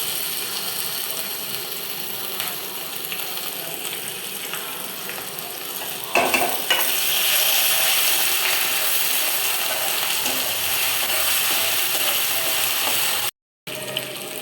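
Onion with ginger, garlic and pepper paste frying in oil in a pan for biryani, a steady sizzle with scraping stirring noises close by, growing a bit louder midway, no talking.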